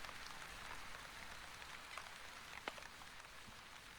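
Light rain in The Wandering Village patters softly and steadily, a faint, even hiss of falling drops with occasional brief taps.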